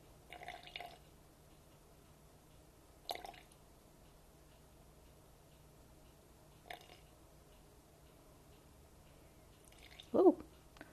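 Small drops of water fall into a sourdough starter of flour and water as a few faint, widely spaced drips in a quiet room, ending with one louder, wetter plop.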